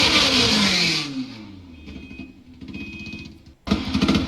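A Honda Civic with a B16 engine and twin exhaust pipes revs hard, its rising and falling engine note loud and close, then drops to a rough idle before snapping back into another sharp rev burst.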